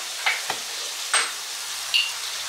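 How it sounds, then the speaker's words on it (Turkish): Flour is dry-roasted and stirred in a pan, giving a few soft, scattered scraping strokes against the metal, faint and close, with no voices. "Ve yine unun kokusu çıkana kadar şöyle kavurmaya devam ediyorum."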